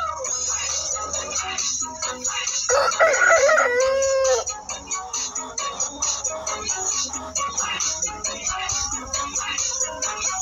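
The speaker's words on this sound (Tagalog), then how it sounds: "Si itim na manok. Ayan, tatataok daw." A nearby rooster lets out one loud, drawn-out crow in the middle of a busy backdrop of clucking hens.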